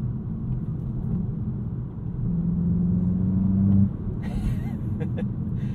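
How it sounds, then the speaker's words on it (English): Inside a 2022 Volkswagen Jetta GLI cabin in sport mode, a low synthetic exhaust drone piped through the speakers swells and holds a rising tone, then drops off abruptly, leaving a steady rumble with faint clicks. "It just pipes in so much exhaust note."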